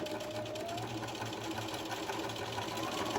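A sewing machine runs steadily at close range, its rapid needle chatter forming an even mechanical buzz while stitching along a marked line for a V yoke seam.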